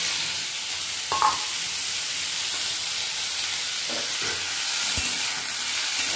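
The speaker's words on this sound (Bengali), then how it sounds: "আর তেজপাতা। আর লাউটা দিয়ে দেবো।" Bottle gourd and bay leaves tipped into a hot pan of oil with dried chilli and five-spice in a village kitchen, giving a steady fry-sizzle with brief stirring clatters, close and moderately loud.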